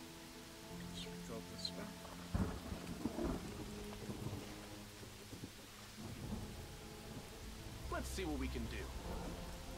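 Rain pours steadily while thunder rumbles in the Pathfinder: Wrath of the Righteous video game, with a player talking over the storm.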